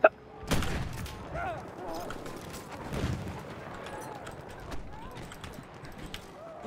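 Sniper rifle shots ring out in Battlefield 1, with a sharp crack at the start and a few more distant reports spread across the clip over a busy battlefield din, while a player talks over the action.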